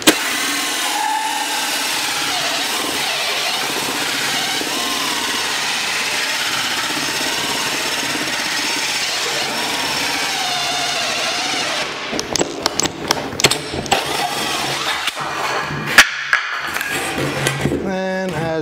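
A power drill with a 6-inch hole saw bit grinds steadily and loudly through wood while a cornhole board is built, then stops, followed by clattering handling noises near the end.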